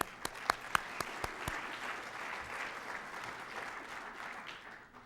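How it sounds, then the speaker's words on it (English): Audience applause during the Gaithersburg mayor's State of the City address, opening with a few sharp separate claps that quickly merge into a steady, moderately loud round of clapping that fades toward the end. "You deserve a round of applause,"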